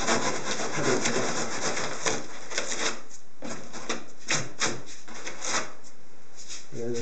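Modelling foam being peeled apart and cut by hand, a close, continuous dry rubbing and tearing with rhythmic scraping strokes that carry on steadily throughout.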